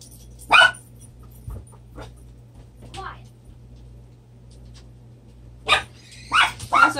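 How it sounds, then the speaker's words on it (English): A dog barks nearby in a workshop where resin is being mixed, giving one sharp bark early and then a quick cluster of three or four barks at the end. Quiet voices and a low background hum fill the gaps. "Everybody's used to hearing him barking anyway."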